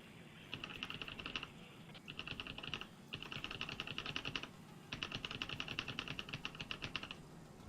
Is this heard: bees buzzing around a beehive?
no